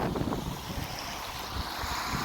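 Gusty wind rushes across the microphone in a continuous, fairly loud blustery roar with no voices, on a misty hill road past tea plantations at Kuttikkanam.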